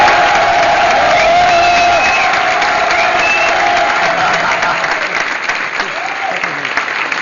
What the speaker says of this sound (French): Et vous pouvez, applaudissez-le, comme ça il va s'entendre.